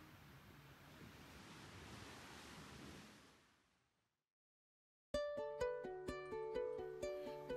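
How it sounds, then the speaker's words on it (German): Surf on the Baltic coast, recorded on site during a Berlin to Copenhagen gravel bike tour, heard as a broad steady wash of waves that fades to silence. Unrelated plucked music follows. "das Meeresrauschen, das ihr hört, ist kein Soundeffekt."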